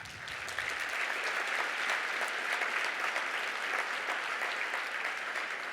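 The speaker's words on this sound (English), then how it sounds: "and we should applaud that." An audience at a Los Angeles gala breaks into sustained, even applause, a dense wash of many hands clapping steadily throughout with no voices over it.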